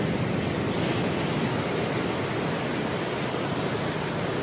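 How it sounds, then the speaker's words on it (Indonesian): Continuous, dense roar of surf from ocean waves at the beach, a steady washing hiss with no distinct breaks and no speech. "ombak ada sedikit perubahan"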